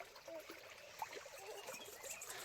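Water trickling and flowing steadily along a stream in a plantation in Chikkamagaluru, a faint continuous babble without voices.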